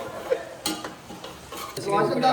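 Maggi noodles get stirred in a pan with a spoon, close scraping and clinking strokes over a low sizzle that grows busier toward the end.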